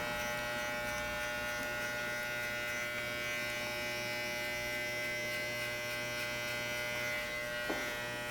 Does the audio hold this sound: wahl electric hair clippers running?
yes